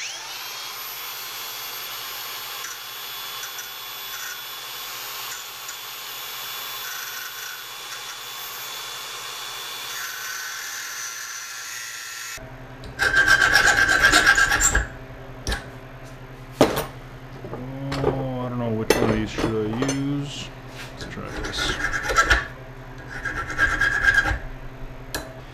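A metal part for a Mercedes W154 replica cyclekart is ground down in a home shop, heard as a loud harsh rasping grind starting halfway through and coming in several close bursts, after a quiet steady hum.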